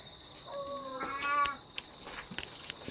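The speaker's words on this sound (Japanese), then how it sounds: "うちの猫ちゃんも来てますね。" Domestic cat giving a short, fairly faint meow that rises and then falls, heard alone over a quiet room with a few small clicks afterward.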